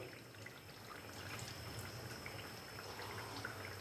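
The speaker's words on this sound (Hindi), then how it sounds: "अभी मैं इसके अंदर हाफ कप पानी और डालूंगा।" Half a cup of water poured into a pot of chicken curry, a steady close trickle and splash running for a few seconds with a faint background hiss.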